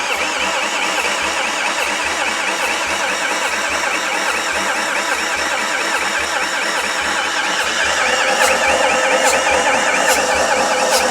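An old Top Gear van engine with no compression cranks on the starter without catching, a loud, even, rapid churning rhythm held for the whole stretch, no firing at any point.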